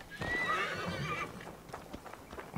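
A horse in the video game Assassin's Creed Valhalla gives a loud, close whinny that rises and falls, followed by a few soft hoof clops and faint noises.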